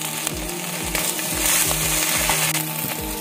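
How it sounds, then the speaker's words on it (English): Fenugreek seeds and broken boiled potato fry in fish oil, a loud, continuous sizzle and spatter with repeated scraping and stirring knocks from the pan, and no voices. "I'm putting in some fenugreek seeds, and then as it splutters, I'm just breaking the potato that I had boiled into this and give it a fry."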